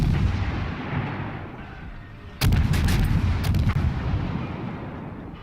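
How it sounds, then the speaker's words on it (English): Russian tier 3 cruiser Bogatyr firing volleys of high-explosive shells in World of Warships, a loud booming salvo with rolling echoes over a continuous low rumble of battle. "And we just keep on laying this volley after volley of high explosive into them."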